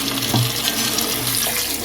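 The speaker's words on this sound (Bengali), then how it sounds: "মাছগুলি এখন ধুয়ে নিব, চান্দা মাছ ভালো করে ধুইয়া" Running tap water splashes steadily and loudly into a sink as small chanda fish are washed under it, a close, continuous gush with no talk.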